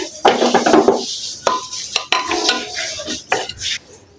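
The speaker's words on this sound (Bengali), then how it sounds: "এখানে প্রেসার কুকারটা আমি চুলা অফ করে দিয়েছি, হাইটাও সব বেরিয়ে গেছে, ঢাকনাটা খুলছি" A pressure cooker lid is worked open after cooking mutton, with metallic clanks, a scraping twist and a few knocks of the lid against the pot, close and fairly loud, no voices.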